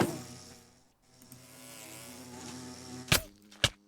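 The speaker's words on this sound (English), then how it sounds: "Found a bee as well." A bee in the Minecraft video game buzzes in a steady, close, wavering drone, followed by two sharp clicks near the end, with no speech.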